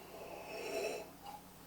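A single short, soft nasal sniff of Liu Bao tea aroma from a glass cup, heard up close and quiet with no other sound.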